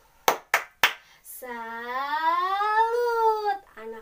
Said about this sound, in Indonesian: Yuk, tepuk salut.